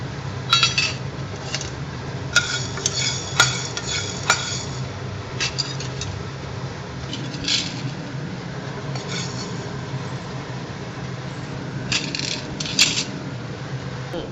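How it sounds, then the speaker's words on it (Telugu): Black peppercorns and coriander seeds being dry-fried in a pan for ginger rasam, with scattered metallic clinks and scraping of a utensil over a low steady background rustle. "ఇప్పుడు ఏంటంటే మిరియాలు కూడా వేసి ఫ్రై చేస్తాం."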